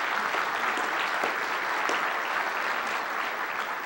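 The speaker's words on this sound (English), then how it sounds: "give him a round of applause" Sustained audience applause at a 2005 Senator Edward M. Kennedy address on America's future in Iraq, a dense, even wash of clapping from a large crowd with no speech over it.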